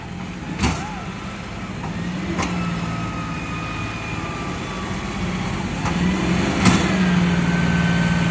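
A John Deere 5210 tractor engine labours steadily while pulling a trolley through black soil, a continuous mid-pitched drone that swells slightly toward the end, with a few brief knocks and clunks over it.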